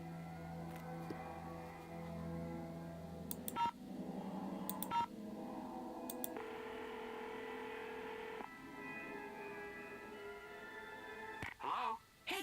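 Phone dialing in the Nancy Drew: The Haunted Carousel video game: a series of distinct keypad tones, some short beeps and sustained tones, followed by a ringing signal, quiet and alone.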